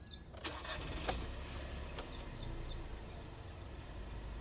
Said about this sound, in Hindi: इस गाड़ी को स्टार्ट करके आपको बताता हूँ कि साउंड कैसी जो है ना वो आ रही है गाड़ी के अंदर